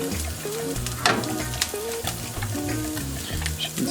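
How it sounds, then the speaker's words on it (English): Vegan cheese sauce whisked in a hot pan, a continuous bubbling sizzle under busy scraping and stirring strokes, close and fairly loud, with music playing underneath. "just whisking and whisking and whisking"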